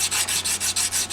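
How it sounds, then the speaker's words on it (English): Rhythmic back-and-forth rasping of a sandpaper block on a guitar, about seven quick even strokes, loud and close. "let's get some sandpaper going and we're gonna get her smooth"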